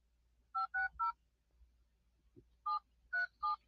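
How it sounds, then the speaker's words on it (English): Telephone number dialed on a keypad, six close DTMF tone beeps in two groups of three separated by a pause, a soft thump between, no voices. "I'm just gonna call Kevin real quick before I double tap that"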